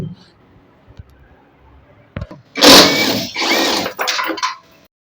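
A power tool loosens two 12 mm nuts while a Hyundai Creta dashboard is removed, giving a loud, close burst of buzzing and whirring in a few uneven pulses after a quieter stretch of small clicks and handling noise.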